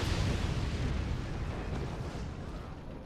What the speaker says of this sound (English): And more mortars